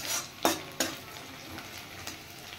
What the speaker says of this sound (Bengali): আর এদিকে পেঁয়াজটাও ফ্রাই হয়ে এসছে, পেঁয়াজটা লাল হয়ে এসছে